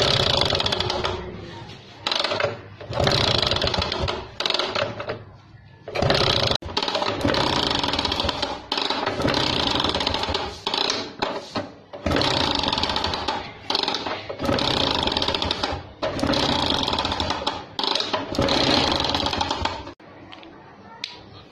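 A Lambretta scooter is kick-started repeatedly with its spark plug held out to check the spark, giving loud, rapid mechanical clattering in dense bursts separated by brief pauses.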